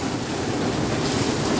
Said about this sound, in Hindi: ये बारिश अब स्टार्ट हो रही है